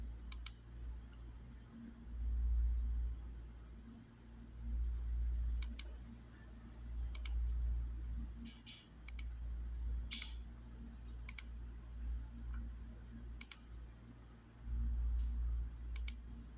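Computer mouse clicks come as sparse, sharp single clicks at irregular intervals, sometimes in quick pairs, over a low background hum.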